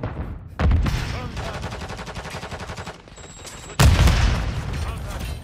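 Call of Duty: Modern Warfare III multiplayer match with rapid bursts of automatic gunfire followed by a grenade explosion, loud and close, fading before a second heavy blast and more firing.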